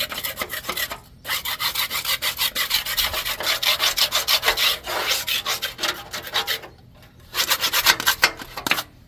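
A metal scraper rasps repeatedly against rusty tiller tines from a 3-point tiller, a close, harsh scraping in fast strokes that come in bursts separated by short pauses.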